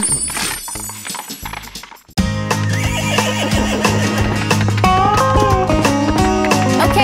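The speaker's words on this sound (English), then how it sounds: "He jumps over gates and says nay" A horse neigh rings out within a bouncy children's song about a horse that jumps over gates, the whinny riding over steady music and a bright backing track.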